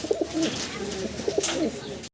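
Pigeons being shown for sale coo in soft, repeated low murmurs, close by and fairly clear, with faint background noise.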